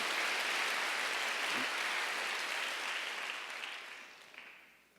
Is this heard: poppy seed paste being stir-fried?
no